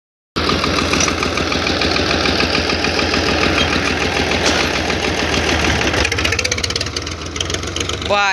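Tractor with a broken fan and broken silencer, its engine running loud and close with a harsh, knocking idle throughout, roughening further near the end.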